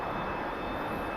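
A T-45 jet trainer flying in a flight simulator game, a steady faint engine roar with no talk over it.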